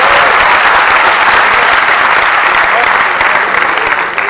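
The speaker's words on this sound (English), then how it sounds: "So round of applause for Nvidia" An audience at a gaming industry talk claps loudly and continuously, a dense close wash of applause that fades only slightly at the very end.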